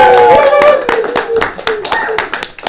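Audience clapping at a fringe festival street show after a one-handed knot trick, sharp hand claps building into a lively, close round of applause with a voice briefly heard.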